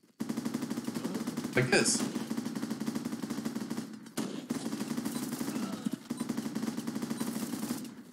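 A machine gun fires in long, rapid sustained bursts in the war game Running with Rifles, a dense rattling stream that pauses briefly midway, while someone speaks over the gunfire.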